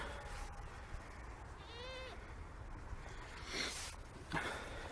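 Goats bleat on a farm, heard from above their pen, with a brief nasal call and a couple of short bursts against steady outdoor background noise.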